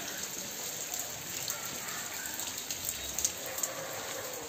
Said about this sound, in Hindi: में छत से पानी गिर रहा है।